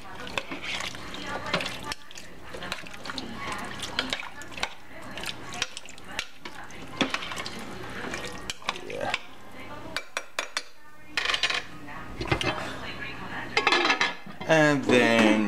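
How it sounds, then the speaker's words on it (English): Red beans and rice are stirred in a cooking pot, a spoon scraping and clinking against the sides in uneven bursts with some wet sloshing, close and moderately quiet, while a person talks over parts of it. "Then you just stir them all up in there good"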